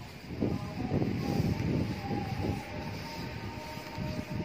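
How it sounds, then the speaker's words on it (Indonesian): Strong night wind near Al-Aqsa Mosque in Jerusalem, a steady, gusty low roar buffeting close by with rising and falling surges and no voices. "Anginnya sangat kencang sekali"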